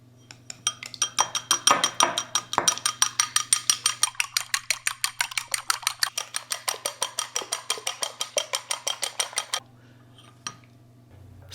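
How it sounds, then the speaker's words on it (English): Cracked eggs whisked in a bowl with a utensil, a fast rhythmic run of dozens of clinking strokes close up, steady then stopping abruptly, followed by a lone tap. "Now we will crack the eggs into a bowl and give them a good stir."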